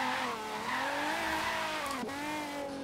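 Car tires squeal and lose grip while drifting in Forza Horizon 3, a steady whining screech over a sustained engine drone, with a brief dip and recovery partway through, loud and continuous.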